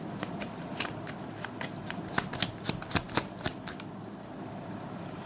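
Tarot cards being shuffled by hand, a run of crisp riffling snaps and slaps spaced about half a second apart, close and fairly clear, then a quiet pause at the end.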